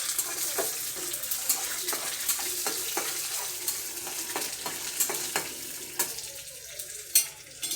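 Coriander, curry leaves and dried red chillies fry in hot oil with a steady close sizzle, broken by repeated stirring scrapes at a regular pace and a sharper clatter near the end.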